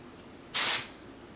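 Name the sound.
spraying a hair texturizing spray into hair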